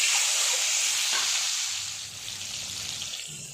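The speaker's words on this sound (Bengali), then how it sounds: "গরম হয়ে গেছে এবার ডিমগুলো ছেড়ে দেবো" Eggs drop into hot oil and fry, a loud close hiss of sizzling that eases slightly after a couple of seconds and then continues steadily, with faint stirring underneath.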